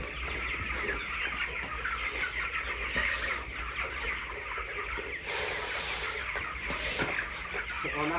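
A flock of twenty-day-old broiler chickens on a poultry farm keeps up a dense, continuous chorus of clucks and chirps, moderately close and fairly quiet, with no clear talk over it.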